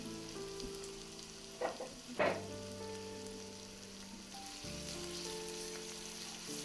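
Onions and green chillies fry in oil in a pan with a steady close sizzle, broken by a couple of sharp stirring clatters midway.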